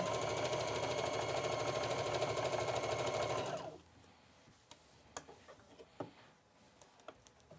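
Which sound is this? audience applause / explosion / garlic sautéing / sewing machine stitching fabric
sewing machine stitching fabric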